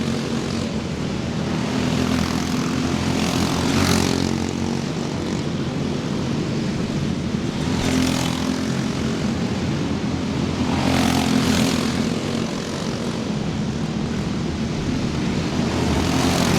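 LO 206 racing karts passing at an indoor speedway, a steady loud engine drone with swelling waves as karts go by, several passes in a row.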